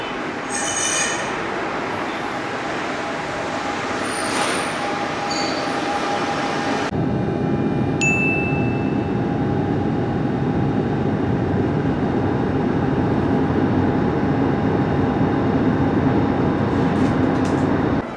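A Lyon metro train pulls into an underground station, loud rolling rumble with high wheel squeals and a brake hiss, then a sustained low, steady roar as it slows and stands.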